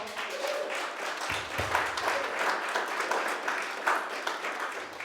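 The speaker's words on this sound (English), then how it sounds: "Can we give them a round of applause?" Audience at a Green Bay startup pitch night applauds the cohort, a dense, even round of clapping filling the room for several seconds, moderately distant.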